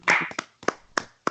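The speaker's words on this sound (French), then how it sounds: "Acclamons le roi des rois." Hands clap in acclamation during a morning prayer gathering. Several sharp, close claps land at an uneven rhythm over about a second, with no voices.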